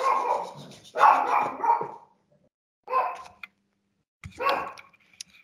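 A household dog barks in several bursts: a run of close barks, a pause, then more separated barks and a short yip, loud and near with silence between.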